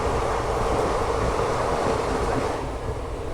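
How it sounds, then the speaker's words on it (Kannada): A Hubballi-to-Vijayawada express train passes close by, a loud steady roar of wheels and rushing air that holds constant throughout with no voices. "ಈಗೇನಾದ ಟ್ರೈನ್ ಕ್ರಾಸ್ ಆಗಿದ್ದು ನೋಡ್ರಲ್ಲ, ಅದು ಬಂದ್ಬಿಟ್ಟು ಹುಬ್ಬಳ್ಳಿಯಿಂದ ವಿಜಯವಾಡಕ್ಕೆ ಹೋಗೋಂಥ ಎಕ್ಸ್ಪ್ರೆಸ್."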